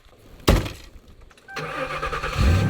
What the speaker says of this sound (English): The truck is not starting.